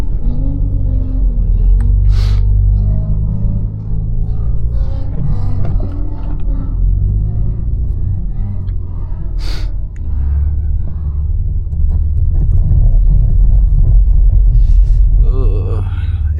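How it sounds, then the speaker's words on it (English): A BMW G80 M3 Competition xDrive driving through a snowstorm, a continuous low engine rumble inside the cabin with a few brief sharp noises and a voice talking briefly over it. "It be sounding so bad once I'm about to brake, or if I do brake, it just sounds terrible."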